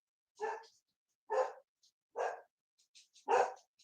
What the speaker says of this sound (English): Gracie, what are you barking at?